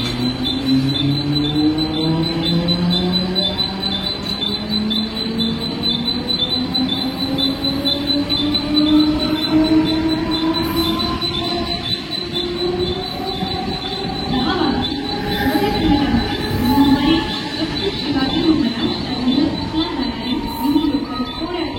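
A Mumbai suburban local train pulls into the platform with loud, continuous rumbling and long rising wheel squeal, the steady roar filling the whole stretch with no break.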